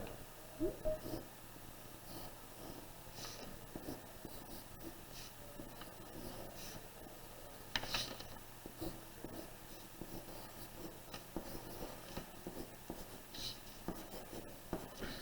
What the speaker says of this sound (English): I'll write my name.